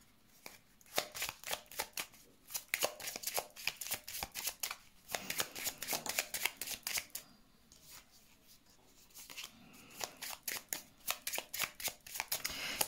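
Oracle cards being shuffled for a tarot-style reading, a long run of quick, crisp riffling flutters and soft slaps close up, repeated in bursts with short pauses and no voices.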